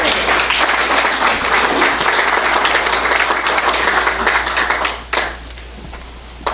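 A crowd of Lions club members and guests applauds steadily at a meeting, dense clapping sustained for about five seconds before trailing off into a quieter room with a final stray clap.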